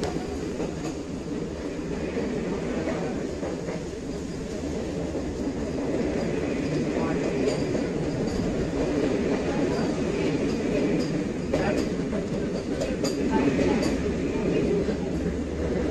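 A Vande Bharat express from Chennai to Mysuru runs through heavy cyclone rain, giving a steady, unbroken rail rumble and wash of noise that fills the whole stretch at moderate level.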